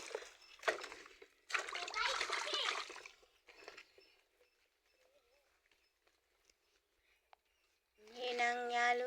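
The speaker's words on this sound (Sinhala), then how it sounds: "වතුර ටිකක් දාමු" Water is poured and splashed onto a newly planted brinjal seedling in a home garden, with bursts of splashing at the start, someone talking in between, and more water noise at the end.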